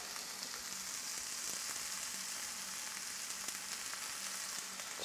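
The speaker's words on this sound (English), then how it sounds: "we just wanna let the onions caramelize just a little bit. Maybe just a touch more oil" Onions caramelizing in oil in a pan for a veggie burrito give a steady, even sizzle and crackle of frying, with faint occasional stirring scrapes and no voices.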